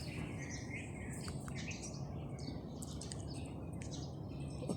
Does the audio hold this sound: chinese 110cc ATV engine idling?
no